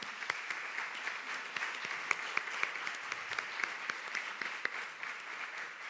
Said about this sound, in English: a warm applause to them